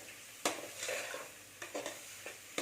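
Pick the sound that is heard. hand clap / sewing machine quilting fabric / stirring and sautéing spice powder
stirring and sautéing spice powder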